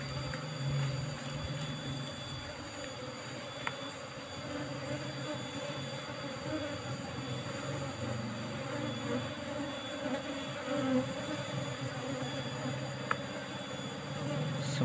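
A continuous hum of buzzing Asian honey bees (Apis cerana), steady and dense throughout, like a swarm nearby.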